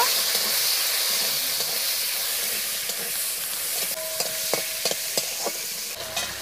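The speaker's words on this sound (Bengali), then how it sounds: "চিংড়ি মাছটা এবার ভালো করে ভেজে নেব" Prawns sizzle in hot oil with turmeric and salt, a dense steady frying hiss with a few sharp utensil clinks and scrapes in the latter half as the pan is stirred.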